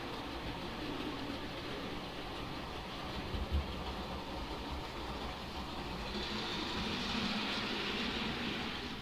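An O scale model train slows to a stop with a steady, close rumble and hiss of motor and wheels on track, holding level throughout with no talk.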